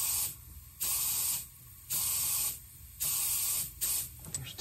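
Compressed air hisses into a homemade turbo boost leak tester, pressurizing an intercooler and boost tubing system in about four sharp, steady bursts separated by short pauses, fairly loud and close with no talk.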